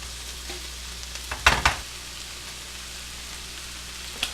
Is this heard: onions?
yes